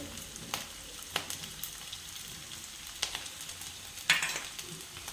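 A potato mixture with coriander leaves sautés in a pan, a soft, steady sizzle with occasional sharper scrapes and clicks as it is stirred, fairly quiet throughout.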